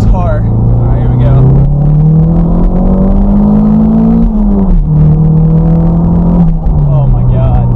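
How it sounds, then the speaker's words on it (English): A Toyota MR2 Turbo accelerates hard in second gear, its engine note climbing steadily, then dipping at a shift and rising again, loud and close from inside the cabin, with a voice talking over it. "we'll go do a little second gear pull here"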